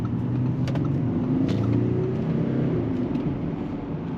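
Steady, low engine drone from an Audi S6 C8 56 TDI diesel with 349 horsepower pulling away smoothly in eco mode, heard from inside, with a gentle rise in pitch as it gains speed and no talk over it.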